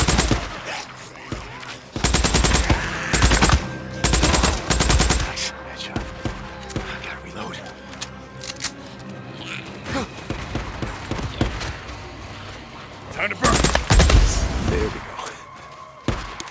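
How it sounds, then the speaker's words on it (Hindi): Chicago Chopper gun in the video game Days Gone fires in loud, rapid automatic bursts, separated by short pauses, with shell clinks and background game sounds between the volleys. "ये जो शिकागो चॉपर गन है इसकी आवाज कितनी सही है, टॉमी गन जैसी है।"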